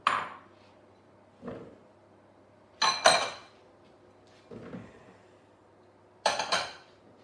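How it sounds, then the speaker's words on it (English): Potatoes, garlic and oil go into a large mixing bowl in several separate bursts of clattering and knocking against the bowl, each one close and sharp before fading, with quiet gaps between. "So what I'm going to do first is just add everything into a large mixing bowl."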